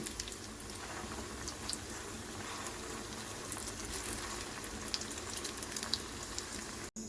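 Soyabean kofta balls fry in hot oil for a curry. A low, continuous sizzle carries scattered small pops and crackles throughout, and the sound cuts off abruptly near the end.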